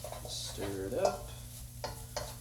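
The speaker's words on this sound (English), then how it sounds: "Stir it up." Thai food sizzling in a pan while being stirred, with scraping strokes and a steady frying hiss, close by and moderately quiet, a faint voice briefly in the background.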